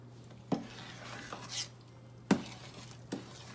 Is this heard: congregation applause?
no